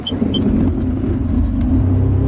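A 2020 Sea-Doo Spark Trixx engine runs rough on old gas, a loud, close, steady low rumble with a faintly uneven note.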